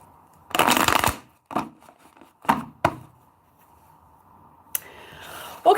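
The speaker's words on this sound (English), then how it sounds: "one more shuffling" A deck of tarot cards being shuffled, a burst of riffling flutter followed by a few shorter card slaps and taps, close and fairly quiet, with soft whispery sounds between.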